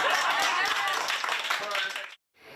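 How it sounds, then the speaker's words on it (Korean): A crowd in New York watches a televised presidential debate at a restaurant or bar and breaks into dense, sustained clapping and cheering for about two seconds before it cuts off abruptly, with a voice speaking over it. "해리스가 트럼프를 향한 공세 수위를 높일 때마다 박수가 터져나오기도 했습니다"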